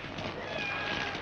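A cat meows in a drawn-out, wavering cry over a steady low background hum.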